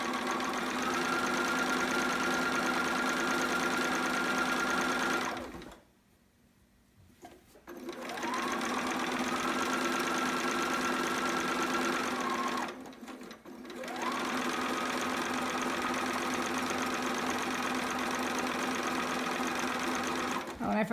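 A sewing machine stitches fabric for a romper in long continuous runs, its steady motor whir pausing twice briefly before resuming, close and clear, with a voice speaking over it.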